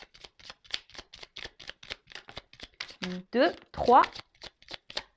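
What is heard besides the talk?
shuffling and drawing cards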